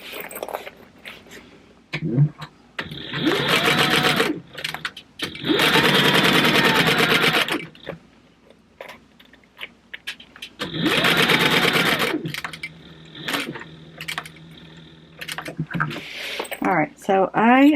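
Sewing machine stitching fabric for an Alice in Wonderland book purse, running in several long loud bursts separated by pauses, with handling noises and a voice talking between runs.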